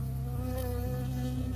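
A bee buzzes steadily and close in the Firewatch video game, a continuous droning hum with no pauses across the short stretch, loud and alone with no voices.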